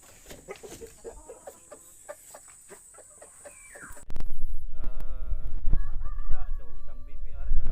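Chickens cluck and a rooster crows nearby, first quietly amid chatter, then louder and busier as the birds call repeatedly.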